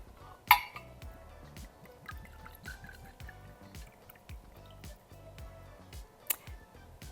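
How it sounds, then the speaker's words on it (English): 1800 tequila is poured into a cocktail shaker for a margarita: a sharp clink of glass on metal, then a thin liquid trickle with soft drips and a second faint clink near the end. "Here we go, into the shaker."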